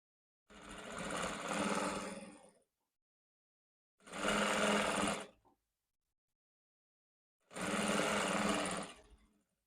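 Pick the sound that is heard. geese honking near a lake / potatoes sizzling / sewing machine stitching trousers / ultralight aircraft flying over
sewing machine stitching trousers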